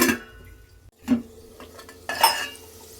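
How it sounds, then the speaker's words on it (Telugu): A metal spoon scrapes and clanks against a cooking pot while chili powder is stirred into okra for a Telugu tamarind curry, three distinct bursts of clinking separated by short pauses. "ఇవన్నీ కలిసేటట్టు నీట్గా కలుపుకోవాలి"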